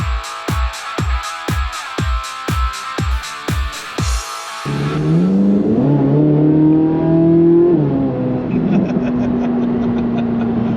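Rhythmic, loud thumping beats give way to a C8 Corvette Z06 engine revving up, its pitch climbing and holding in a sustained, close roar.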